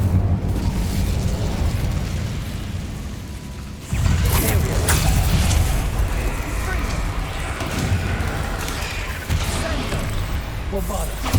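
Bombarda blasting spell from Hogwarts Legacy: a sudden booming burst about four seconds in, followed by crackling, rumbling debris and clattering over background game noise, with a voice talking alongside.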